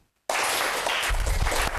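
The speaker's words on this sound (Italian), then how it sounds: "rifate l'applauso" Studio audience at a children's television show bursts into loud, sustained applause after a brief silence, dense clapping with a few cheers filling the room.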